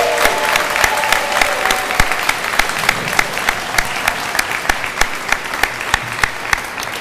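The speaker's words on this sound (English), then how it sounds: "So let's give them a round of applause." A crowd at a May 2021 nursing program pinning ceremony applauds the 32 nursing graduates, with steady, even clapping throughout and sharp individual claps standing out in a regular rhythm.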